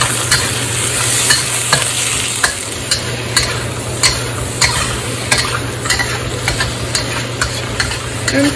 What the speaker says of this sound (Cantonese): 放啲豬油落去